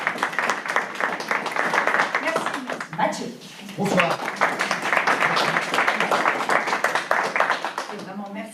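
Audience applause filling an evening event hall, dense continuous clapping that briefly dips and then resumes, with a few spoken words over it.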